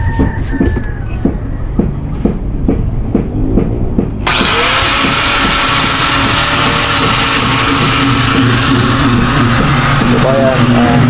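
Marine engine newly installed on a freshly built fiberglass boat hull, running loud and close with a steady droning hum and harsh rattle, sharp tapping at the start before the engine roars up and holds.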